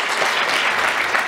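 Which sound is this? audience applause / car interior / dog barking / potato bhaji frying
audience applause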